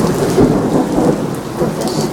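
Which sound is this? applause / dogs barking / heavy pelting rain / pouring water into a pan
heavy pelting rain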